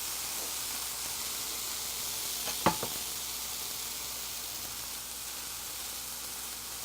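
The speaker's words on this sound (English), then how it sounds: "I've got these leftover mixed vegetables. We're going to drop them in there, just warm them up a little bit." Leftover mixed vegetables warming in a pan give a steady, soft sizzle throughout, broken once by a brief clack of utensil or pan near the middle.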